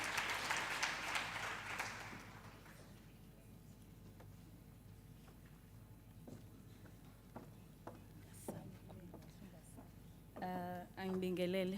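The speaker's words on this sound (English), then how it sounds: "Round of applause, ladies and gentlemen." Audience applause at a campus community safety programme event at a university, a broad burst of clapping at the start that quickly fades, followed by quiet room noise and a voice near the end.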